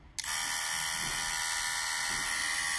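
A Bosch GOP 12V-28 cordless oscillating multi-tool switches on and runs at its lowest speed setting, giving a steady, close, high-pitched electric whine that holds evenly without talk.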